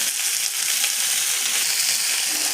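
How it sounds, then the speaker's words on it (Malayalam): Two medium onions sauteing in a pan for an ivy gourd stir-fry, a loud, dense, unbroken sizzling hiss from start to finish with no voices. "സവാള രണ്ട് മീഡിയം സൈസിലുള്ള സവാളയാണ് ഇടുന്നത് അത് നന്നായി മൂപ്പിക്കുക"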